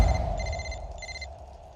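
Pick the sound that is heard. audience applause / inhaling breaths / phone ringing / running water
phone ringing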